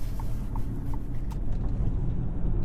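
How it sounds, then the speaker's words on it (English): Low steady rumble of road noise heard from inside a 2026 Ford Maverick XL driving a bumpy back road, continuous and fairly loud with faint periodic thumps. "On a bumpy back road, you can hear some road noise."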